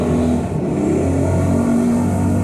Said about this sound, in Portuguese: eu estou dando aqui uma parada para passar uma moto aqui na frente da minha casa